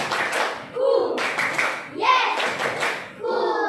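Schoolchildren in a classroom do a counting clapping game, with bursts of hand claps in short rhythmic groups alongside children's and a teacher's voices.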